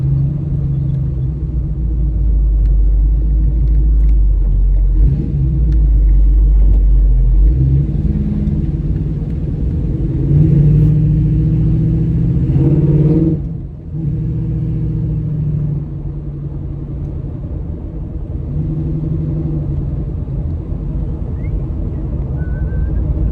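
A 1955 Chevy on a test drive: a loud, steady low engine rumble with rising and falling revs through gear changes, continuous throughout with interior road noise.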